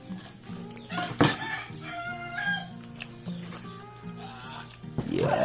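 A farm rooster crows outdoors in the early morning, a loud drawn-out call rising over a steady rural background, with another bird's cluck and a sharp knock nearby.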